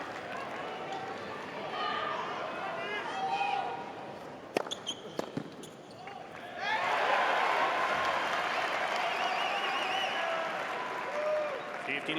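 Austrian fans at an Australian Open 2021 third-round tennis match between Dominic Thiem and Nick Kyrgios swell into loud, sustained cheering and applause after a few sharp claps, under a steady crowd bed.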